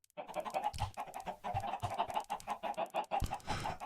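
Chickens clucking in Minecraft, a rapid run of close, repeated clucks and squawks in an uneven rhythm, with no talking.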